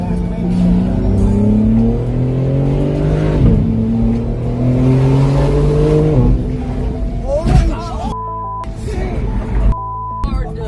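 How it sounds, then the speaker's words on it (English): A car driven recklessly through Los Angeles traffic, its engine loud and close as it revs hard and climbs through the gears, pitch rising and dropping with each shift, then a brief drop in the sound near the end. "Ron live streamed himself driving recklessly through LA traffic"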